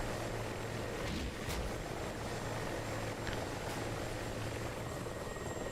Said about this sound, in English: Mi-24 is also getting in on the action here.